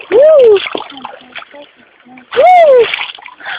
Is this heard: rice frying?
no